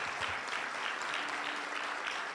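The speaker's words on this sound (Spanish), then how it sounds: "Dale un aplauso al Rey de la Gloria." Church congregation clapping during a worship service, a brief, dense wash of applause heard somewhat distant and soft throughout.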